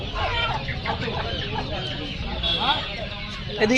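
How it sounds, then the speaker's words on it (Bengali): Native Bangladeshi chickens cluck and squawk repeatedly in a busy village market at Nepalganj, overlapping one another, with people talking nearby. "এগুলো দেশি মুরগি।"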